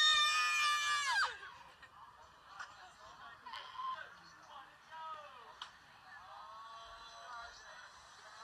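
A person screams on a dragon ride at an amusement park, a loud high scream for about a second, followed by fainter distant shouts and crowd noise.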